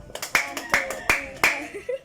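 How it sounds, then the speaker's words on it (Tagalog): A class gives a rhythmic group clap during a tutorial session, several sharp, loud claps in quick succession, with voices faintly underneath. "Bigyan natin siya ng 3 palakpak."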